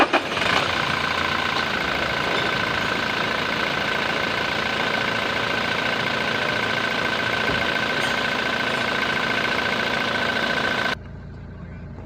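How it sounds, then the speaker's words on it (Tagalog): A Toyota Fortuner engine, freshly reassembled after EGR and intake cleaning, fires up and settles into a steady, loud idle with a constant mechanical drone, then cuts off near the end; nobody talks. "At startin na natin yung makina."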